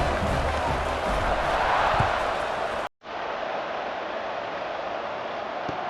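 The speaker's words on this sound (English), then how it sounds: "this crowd is buzzing after that last score" A large college football stadium crowd fills the air with a dense, continuous roar and murmur, heard from within the stands, dropping out briefly for a moment before resuming at a steady level.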